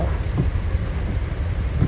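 Steady rain hisses continuously with a low rumbling undertone, heard briefly without any voices.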